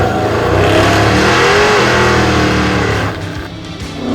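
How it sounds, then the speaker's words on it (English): Muscle truck engine snarling loudly on a cone-marked race course, a sustained revving roar that holds strong and then eases off near the end. "that muscle truck is just snarling at me"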